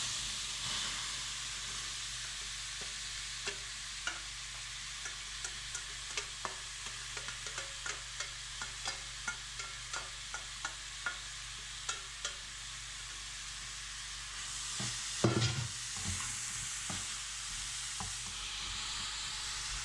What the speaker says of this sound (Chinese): 油热以后放进胡萝卜丝翻炒。